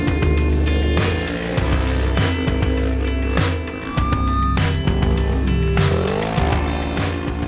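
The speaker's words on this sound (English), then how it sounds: "Car just went by." A Polaris off-road race car at the 2015 SCORE Baja 1000 roars nearby, its engine revving and surging in several loud bursts as it drives past, with no talking.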